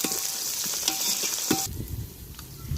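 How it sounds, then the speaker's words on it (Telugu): Tomatoes and oil sizzle and crackle in a pan for tomato rice, a close, continuous frying hiss with a brief clink of a stirring utensil partway through. "ఇవైతే వేగుతున్నాయి కదండి."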